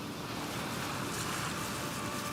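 Ocean surf breaks on a sandy beach where turtle hatchlings head for the water, a continuous loud wash of waves mixed with gusty wind noise and no voices.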